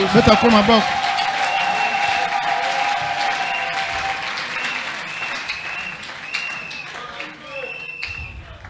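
A church congregation breaks into loud, sustained applause and cheering, steady clapping filling the space for several seconds and slowly tapering, with voices mixed into the crowd noise.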